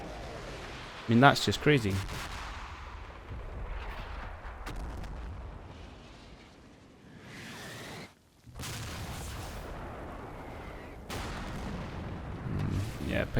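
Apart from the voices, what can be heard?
mortar bombardment in Combat Mission video game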